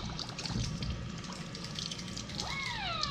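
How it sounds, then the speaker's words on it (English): Tap water runs and splashes steadily at a sink as fidget toys are rinsed under it, a soft, continuous trickle with small clatters, no voices. "So now I'm gonna rinse these off."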